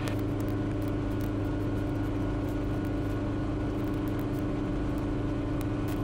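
Helicopter lifting off and climbing on an autumn afternoon flight to Auburn Municipal airport, a loud steady close rotor and engine drone with a rhythmic thumping pulse, constant throughout with no talk.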